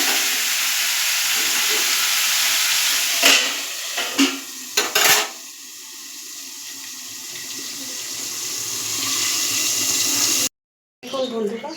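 Marinated chicken leg pieces fry in oil over medium heat in a pan, a steady bright sizzle with a few utensil clinks and scrapes midway, fading near the end before a brief cut.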